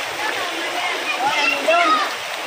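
Floodwater rushes through a flooded neighborhood as a loud, steady broadband wash of splashing flow, with faint voices in the background.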